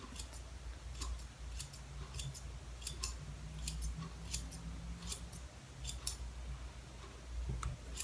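Scissors trimming mid-length hair at home: crisp, close snips repeat in quick irregular pairs and clusters over a soft steady background hiss, with no talking.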